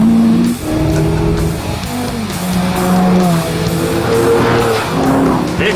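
A supercar on a rough road in France, its engine loud and steady close by, with tyres squealing and slipping in drawn-out whines throughout.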